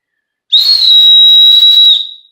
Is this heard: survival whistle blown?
yes